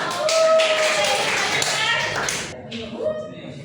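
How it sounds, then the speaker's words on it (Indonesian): A classroom of students clapping for a group after its presentation, a brief burst of scattered claps fading after a few seconds, with voices talking over it. "Tepuk tangan buat kelompok."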